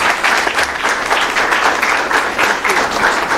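An audience at a conference opening applauds as a gift is presented, a dense, steady burst of many hands clapping, close and loud throughout the few seconds.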